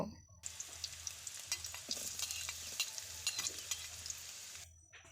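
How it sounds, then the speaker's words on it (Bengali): Chopped onion, garlic and naga chili fry in a little oil over low heat, giving a soft continuous sizzle broken by frequent light scrapes and clicks of stirring, with no talk. "মোটামুটি বাদামি রং আসা পর্যন্ত এই পেঁয়াজ রসুনগুলো ভালোভাবে ভেজে নিচ্ছি"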